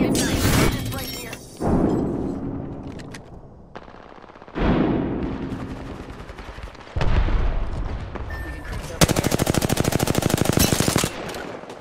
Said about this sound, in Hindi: तेरा गोली का साउंड आ रहा है